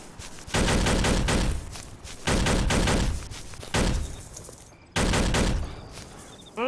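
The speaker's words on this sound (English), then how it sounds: "I can hear the MGs being fired." Machine guns fire in a WWII video game, four long sustained bursts of rapid automatic fire separated by short pauses, loud and close with no talk over them.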